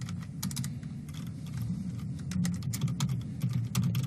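Python code is typed on a computer keyboard for a Raspberry Pi, a quick, irregular patter of close key clicks over a low background hum.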